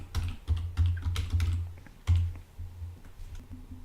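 Keys tap on a computer keyboard as a password is typed, in a short, uneven burst of close clicks with brief pauses between them.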